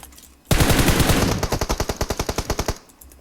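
Gunfire in the video game PUBG Mobile: a loud sustained burst of automatic fire, first a blurred roar then clearly separated rapid shots, about twenty in a row, before stopping abruptly.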